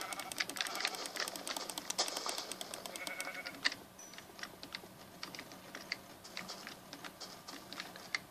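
Minecraft sheep bleats ring out over rapid keyboard tapping and clicks, the bleats coming in short bursts.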